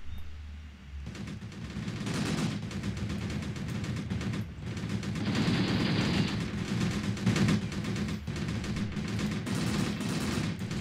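Dense, continuous gunfire and volleys in a Graviteam Tactics jungle battle in Angola, 1980, rattling steadily throughout with a few heavier bursts, loud and sustained with no voices.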